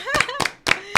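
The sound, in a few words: applause for the performers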